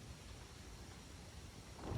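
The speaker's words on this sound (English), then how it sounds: "it is pouring rain and hopefully you can hear me with all this wind" A steady, broadband roar of wind and heavy rain fills the scene, rumbling low and constant, swelling slightly toward the end.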